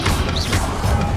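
A Confringo spell cast in the Hogwarts Legacy game, a loud fiery burst with a crackling impact and a brief rising whoosh, dense and continuous over dull game background for about a second.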